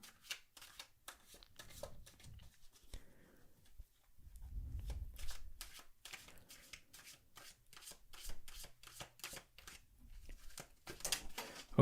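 Tarot cards are shuffled and drawn by hand, giving repeated crisp riffling flutters and soft rubbing slides in irregular bursts, close and fairly quiet, with a brief low murmur of a voice partway through.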